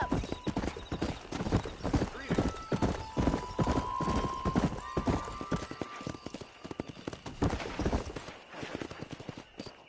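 Horse hooves gallop in a steady, fast clip-clop rhythm through the Red Dead Redemption game on PS5, loud and close, with a sustained whinny-like tone and game voices talking over parts of the ride.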